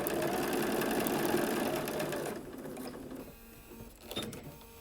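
Sewing machine stitching a paper-pieced quilt, a fast steady mechanical whir and chatter running close and clear for a couple of seconds, then slowing into quieter intermittent stitches.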